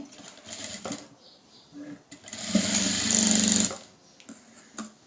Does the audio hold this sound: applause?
no